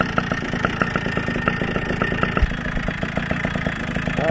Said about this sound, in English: bike is about warmed up